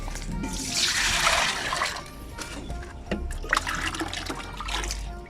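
Water poured into a pigeons' drinker during a hot day, a steady broad splashing rush that swells for about two seconds, then thinner trickles and small splashes close by, with no talk.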